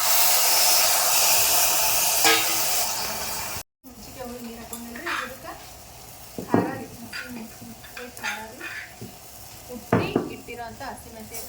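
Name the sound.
tamarind water added to frying garlic and coriander, sizzling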